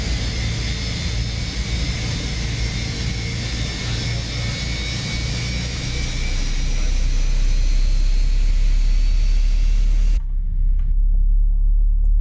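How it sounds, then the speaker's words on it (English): Airbus A320 jet engine number one starting in Microsoft Flight Simulator 2024, a steady loud whining roar with a low rumble that builds gradually, then cuts off abruptly near the end. "we will start engine number 1, engine master 1 engaged"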